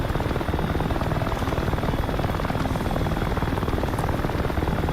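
Mi-24 Hind attack helicopter in a combat video game, a loud, steady rotor thumping and engine roar filling the whole stretch, close and continuous with no voices.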